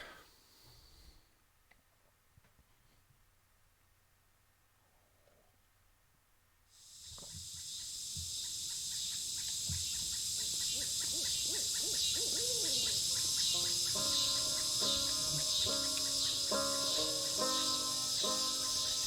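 Forest ambience in Kentucky Route Zero, a quiet stretch before steady dense crickets and insects swell in and hold, with an owl-like hoot and scattered chirps over the continuous night chorus.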